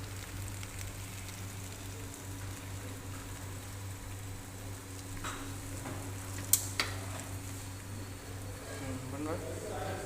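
Biryani garnish frying in a pan with a soft, steady sizzle and occasional stirring scrapes, while a person talks faintly over it.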